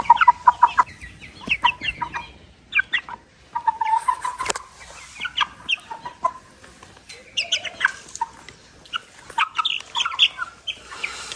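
Chicks and young roosters cluck and peep in short, scattered bursts nearby, with soft chirps between them and no talking.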